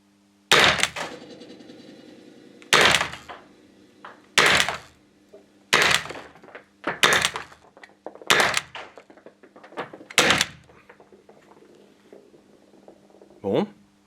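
Umarex IMPAX P68 pistol fired through its third magazine: seven sharp, loud reports spaced one to two seconds apart, each with a short ringing tail over a steady low hum.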